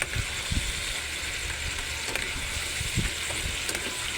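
Blue crab stirred in a sizzling sauce in a pan, a steady frying hiss with soft scraping stirs at intervals, close and continuous, no talking.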